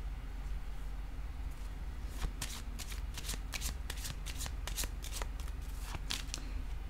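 Tarot cards being shuffled close up, a quiet run of crisp riffling flicks over several seconds with no voice.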